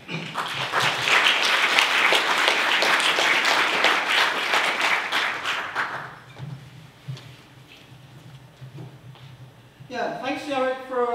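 Audience applause at a mathematics congress lecture, dense steady clapping from a large hall for about six seconds, then fading to murmurs before a speaker begins talking.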